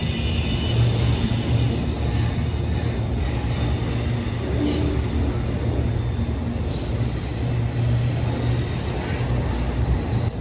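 A Union Pacific freight train crosses a viaduct with a steady, loud rolling rumble and clatter of railcars and faint wheel squeal that continues throughout.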